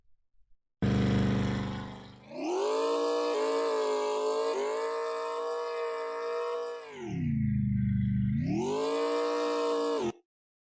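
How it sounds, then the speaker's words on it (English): Synthetic car engine loop in a simple Unity video game, a buzzy harmonic drone that starts abruptly, rises and holds, dips in pitch, then climbs again before cutting off, loud and alone. "Now our car has some sound."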